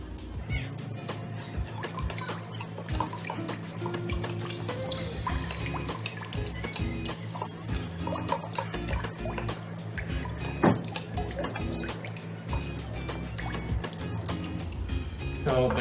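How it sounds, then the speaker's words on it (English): Butter mixture for a banana cake is poured into a mixing bowl, making soft, steady liquid glugs and drips with small clinks for about sixteen seconds, fairly quiet, while a person talks. "the butter mixture is now poured into the bowl"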